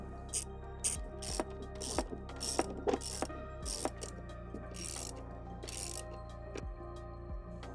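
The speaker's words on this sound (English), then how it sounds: "And finally mounting the right footrest with the 2 screws you previously took out." A ratchet tightening the two screws that mount the right footrest on a 2024 KTM 1290 Super Adventure R, with bursts of rapid close clicking broken by brief pauses and louder clacks.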